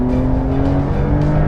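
A Porsche GTS accelerates hard on a race track, its engine droning loud and steady from inside the car for a brief moment.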